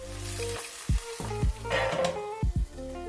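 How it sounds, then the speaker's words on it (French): Potatoes and shallot fry in olive oil in a pan over medium heat, a steady close sizzle broken by several sharp knocks and scrapes of stirring, with no talking. "Je fais revenir le tout à feu moyen dans un filet d'huile d'olive"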